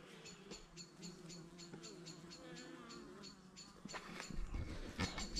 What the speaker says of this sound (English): Bees are pollinating them hard.